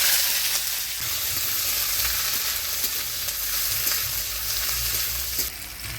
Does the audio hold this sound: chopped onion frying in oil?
yes